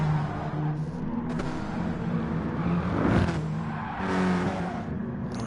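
A VW Cup race car lapping in GT Sport, its engine drone steady and revving through gear changes, one car passing closer mid-way, fairly loud with no voices.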